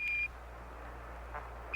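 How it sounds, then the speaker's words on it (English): Apollo 11 lunar module 1201 program alarm: a steady high electronic beep sounds for about a quarter second, falls silent over a low radio hiss, then starts again at the end, with faint static in between. "Roger, 1201 alarm."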